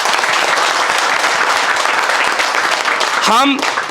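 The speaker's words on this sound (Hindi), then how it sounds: "तो एक बार जोरदार ताली भाई आप" Enthusiastic, dense applause from a class of students in a mobile-repairing course, a full steady round that carries on loudly until a voice cuts in near the end.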